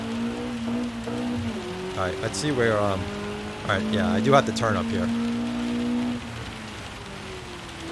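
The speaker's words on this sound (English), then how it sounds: "I do like the sound effects of the rain." A constant wash of rain noise alongside a droning car engine in Gran Turismo 7 on PSVR2, with someone talking over it throughout.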